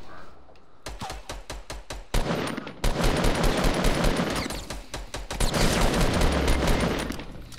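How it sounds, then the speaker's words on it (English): Mortar strikes in the Fortnite battle royale game, a rapid barrage of sharp, loud blasts that swells into a dense, sustained roar of explosions and gunfire. "Mortar strikes."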